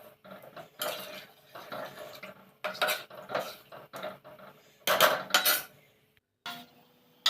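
A metal spoon clinks and scrapes against a pan while vegetables are stirred and fried, coming in short irregular bursts separated by quiet pauses, close and fairly soft.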